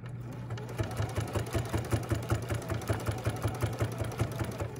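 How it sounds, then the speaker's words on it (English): A sewing machine runs steadily as it stitches fabric for a machine cover, a continuous close motor hum with a fast regular needle pulse and no talking. "And so I just start sewing,"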